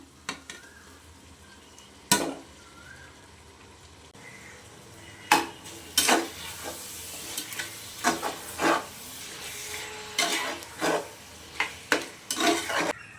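Tomatoes are sautéed with ginger garlic paste in a pan: intermittent scraping stirs and spoon knocks against the metal over a faint sizzle, close by, with several louder clatters toward the end.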